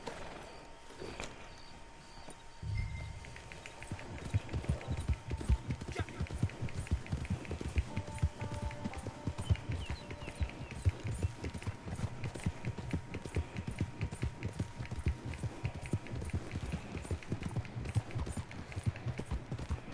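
Horse hooves gallop in a fast, continuous drumming rhythm in the video game Red Dead Redemption 2, with game sounds and a brief voice at the start before the pounding takes over.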